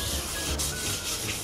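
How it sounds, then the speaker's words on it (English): Wood on a narrowboat hatch being sanded by hand, a close, steady hissing rub with short rhythmic strokes. "I'm just sanding the back of the hatch first."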